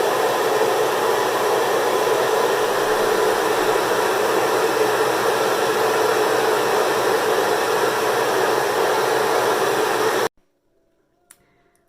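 A hair dryer fitted with a diffuser runs on medium heat and medium speed, a loud, steady close-up whoosh of blowing air for about ten seconds before it cuts off abruptly into near silence.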